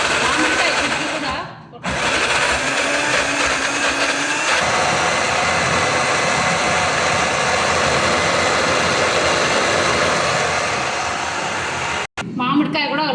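Kitchen mixer grinder blending mango lassi with raw mango, a loud continuous whirring motor roar that briefly drops out near the start, shifts pitch midway and stops abruptly near the end.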